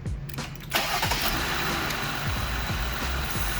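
A Jeep engine cranks and starts at close range with a brief starter whir, then settles into a steady, loud idle that runs to the end.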